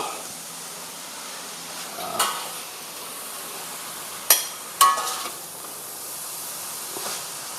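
Steady low sizzle of food frying in a pan, broken by a few scraping clinks of a utensil stirring, close by.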